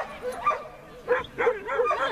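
A female dog gives short, close growls and whiny yips in a few uneven bursts while people talk beside her.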